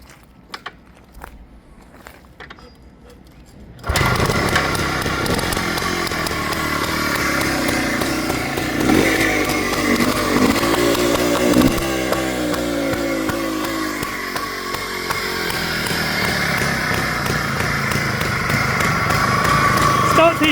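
A Yamaha TY250 trials motorcycle is started after a few faint clicks and shuffles, then runs loud and close with a steady rattly idle and small throttle swells that continue throughout.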